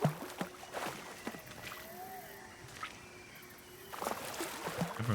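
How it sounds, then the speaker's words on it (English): Indiana Jones wades through flooded rice-paddy water in the Indiana Jones and the Great Circle video game, producing a few sloshing, splashing steps that rise and fade over soft ambient game sound. "Indy just comes slop, slop, slop in through the water"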